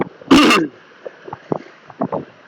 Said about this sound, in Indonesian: Sorry ya kalau ada batuk-batuk